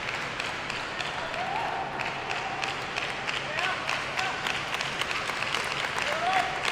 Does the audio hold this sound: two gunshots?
no